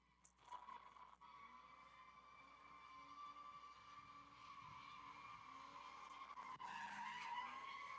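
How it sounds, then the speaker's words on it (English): A big-block drift car runs at a distant track, its engine a sustained droning roar mixed with long tire skids and squeal that builds steadily louder over several seconds, with no nearby talking. "You can hear that big block sucking in air and drinking."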